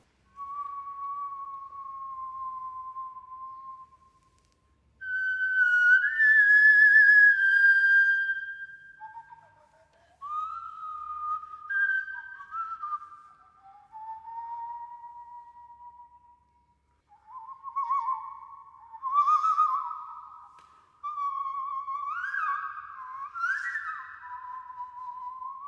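A recreated ancient flute plays slow, clear sustained notes and gliding melodic phrases, breathy and close, separated by short silences with no talking.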